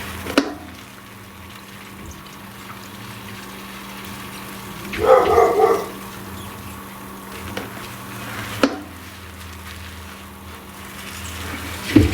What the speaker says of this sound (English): You can probably hear my dog up there.